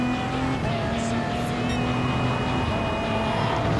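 Gran Turismo Sport Gr.1 race car in the video game accelerating hard out of a very slow corner, a steady rising engine drone with a whining tone that carries throughout, with commentary talking over it.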